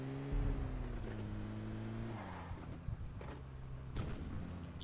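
A car in a video game drives along with a steady engine drone that shifts pitch as it changes gear, with a few sharp knocks and thuds along the way.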